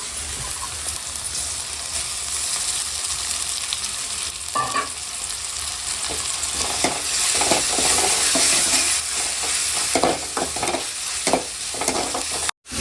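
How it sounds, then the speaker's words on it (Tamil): Ground ginger garlic paste frying with onions in a village kitchen pan, a continuous loud sizzle with stirring scrapes and clatters that grow busier toward the end before a sudden cut. "இப்போ நான் அரைச்சி வச்சிருக்க இஞ்சி பூண்டு பேஸ்ட் அப்படியே சேர்த்துக்கிறேன்"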